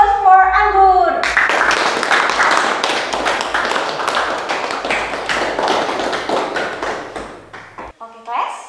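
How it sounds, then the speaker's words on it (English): A classroom of students claps after a lesson game, a dense burst of many hands lasting several seconds before stopping, with a brief voice at the very start and end. "Give the applause for Anggur."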